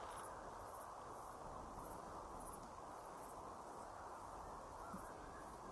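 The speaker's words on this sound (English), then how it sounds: "I don't know if you can hear the crickets." Steady, dense cricket chirping fills the background continuously in a cemetery at night, a faint chorus with no voices and no breaks.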